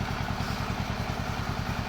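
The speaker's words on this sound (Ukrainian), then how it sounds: "як чуєте, трактор вже тарахкотить" A tractor engine idles with a steady, rapid rattling chug, close and fairly loud, with no speech over it.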